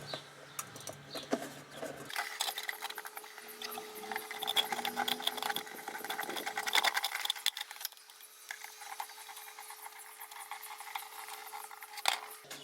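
A power screwdriver drives a screw through a metal pot into a homemade poultry feeder, a steady whirring hum with a high tonal whine, running close and continuously with scraping ticks throughout.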